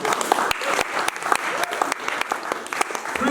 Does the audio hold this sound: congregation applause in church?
yes